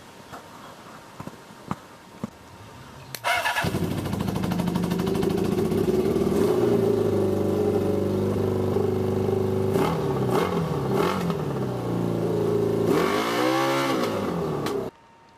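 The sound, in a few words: homemade Mad Max trike engine test start and running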